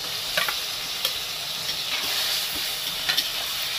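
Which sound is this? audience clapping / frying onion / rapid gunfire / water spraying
frying onion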